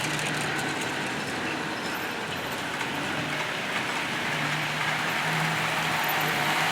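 A Hornby Triang model railway with an Isle of Wight two-car set running on the layout, giving a steady, dense rolling rattle of small wheels on track that holds evenly throughout with no talking.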